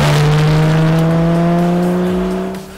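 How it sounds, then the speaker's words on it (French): Porsche 911 (991) Carrera 4 GTS from 2015, flat-six engine with factory sport exhaust, revving hard with a rising metallic growl toward the redline. It is loud and close, one sustained climb that fades away at the end. "le bloc de la GTS émet ce grondement métallique caractéristique des 911 avec un final rageur à l'approche de la zone rouge"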